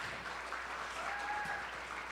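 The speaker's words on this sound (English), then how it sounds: "Everybody give another round of applause for Ben" An audience applauds for Ben, a music venue owner, at a Sunday gathering: a steady, moderately distant patter of clapping lasting about two seconds, with no talk.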